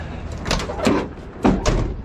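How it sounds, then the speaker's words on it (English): Doors on an old Ford F-series pickup after new body bushings are fitted, opening and closing in a quick series of latching thumps and clunks, close and fairly loud with no talking. "Doors, man, the doors never open and close well on this truck."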